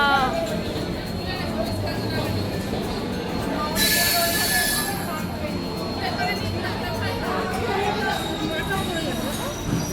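A passenger train grinds along after someone pulls the emergency chain, its rumbling wheels joined by a brief high metallic squeal of braking, while excited voices talk loudly over the rail noise nearby.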